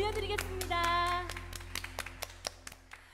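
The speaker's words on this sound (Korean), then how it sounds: "우리 하나님께 다 같이 영광의 박수 올려드리겠습니다." Congregation clapping at a children's Sunday worship service: scattered, uneven hand claps over sustained musical tones, louder at first and thinning out toward the end.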